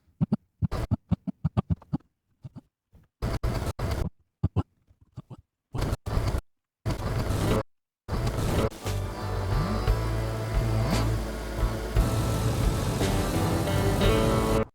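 Layered game-trailer sound design of a car approaching with tires rolling through weeds: sparse sharp scraping bursts separated by silences, then a dense continuous roar building and holding loud to the end.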